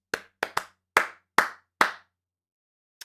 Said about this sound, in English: what tune did I just clap out?